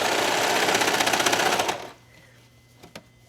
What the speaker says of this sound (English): So let's go to the serger.